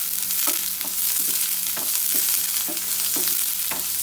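Onion stir-frying in a pan for okra thoran, a steady hot sizzle with rhythmic scraping strokes from a spatula about twice a second, loud and close with no talk.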